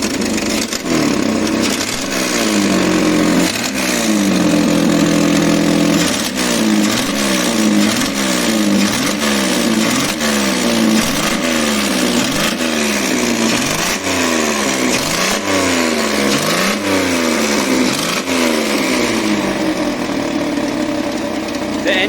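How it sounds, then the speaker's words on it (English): A restored 1971 series 1 Datsun 240Z engine, started and then running loud and close, its revs rising and falling again and again in a steady cycle of throttle blips over a rough idle. "The engine has started."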